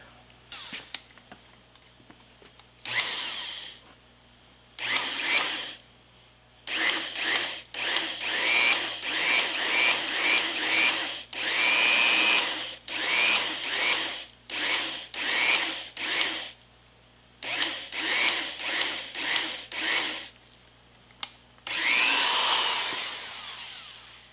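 Power drill boring a countersunk bolt hole for a washer and bolt head into an oak log used as an anvil stand, running in repeated bursts of varying length with short pauses between, close and fairly loud.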